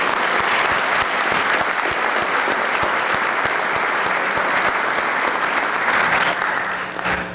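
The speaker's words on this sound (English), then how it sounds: "Let's give them a round of applause." Audience applause at a high school National Honor Society induction ceremony, honoring inducted students: steady, dense clapping from a large crowd that holds for the whole stretch and tapers slightly at the very end.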